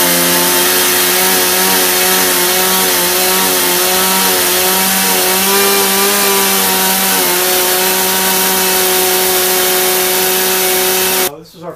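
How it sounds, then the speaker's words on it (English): A chainsaw roars at full throttle, loud and close, its engine pitch rising and wavering steadily as it cuts into a log for milling lumber, then cutting off abruptly at the end. "Let's start our chainsaw up and we'll get this moving."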